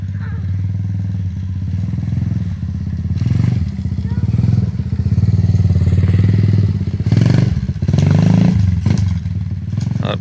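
A Kayo TD125 dirt bike runs in second gear through deep snow, its engine droning steadily and loudly up close with clattering thumps and scrapes, while a voice talks over it.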